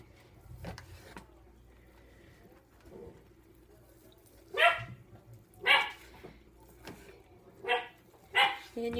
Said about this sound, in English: And you can hear my dog barking.